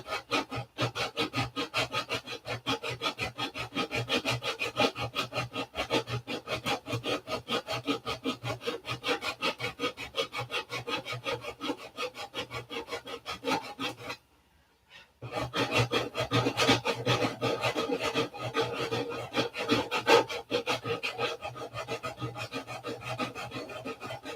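Hand sanding and filing smooth the edges of a filled repair like bodywork, a rapid regular rasping stroke repeated closely and evenly, with a brief pause midway before the scraping resumes.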